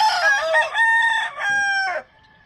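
A Harold Brown Grey Red Fox rooster crows loudly and close by, one long drawn-out cock-a-doodle-doo that trails off into a faint fading tone.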